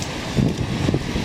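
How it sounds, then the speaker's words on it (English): Gusty wind on Rue Ontario in Montreal's Hochelaga district, a broad steady rush buffeting the microphone with rumbling low gusts throughout a short outdoor stretch. "a little bit windy"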